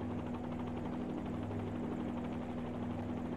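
Steady helicopter rotor and turbine drone from a flight simulator while the aircraft hovers, a continuous loud hum with a strong constant tone and no pauses.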